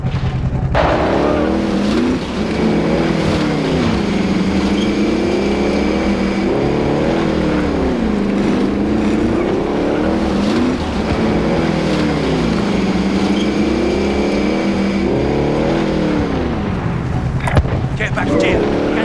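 Engine of a car being driven in Call of Duty: Modern Warfare, a sustained motor drone with rising and falling revs in repeated swells, loud and close for the whole stretch.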